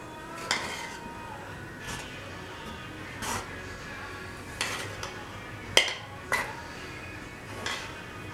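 A spoon stirs sourdough bread dough in a bowl, giving about seven scattered clinks and scrapes against the bowl over a soft steady background. No one speaks.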